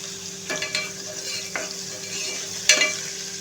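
Onion sautéing in a pan for a chana dal and bottle gourd dish, a soft steady sizzle with a few distinct spatula scrapes and a sharper clink near the end, nearby and alone.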